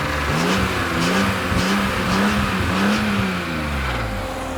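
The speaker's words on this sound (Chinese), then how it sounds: "In case 你们没有听过 BM lap 油的声音啦" A BMW M3 E46 engine revs hard in repeated rising and falling surges, loud and close, with a raspy tone throughout and no talking.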